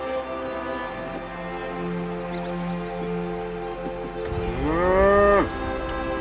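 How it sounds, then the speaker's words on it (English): A hairy Highland cow beside a Scottish canal lets out a long, deep, rising moo near the end, loud and close, over a steady low engine drone and faint background noise. "Who doesn't love a hairy Highland cow?"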